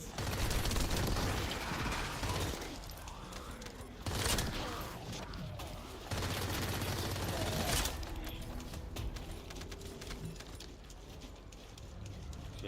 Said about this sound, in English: I'll go and shoot these.